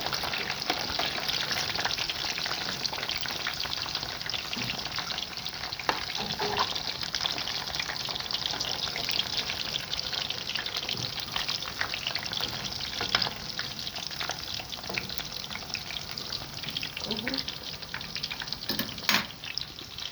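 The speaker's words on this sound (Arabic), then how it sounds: "حطيت حطيت الكفته بتاعتنا في التقليه واسيبها شويه لما تغلي وتستوي" Kofta fry in a pan of hot oil, a steady close sizzle and crackle with occasional pops and stirring, no talk.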